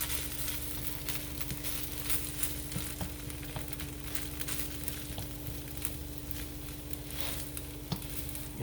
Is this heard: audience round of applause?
no